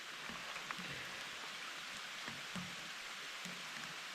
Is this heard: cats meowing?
no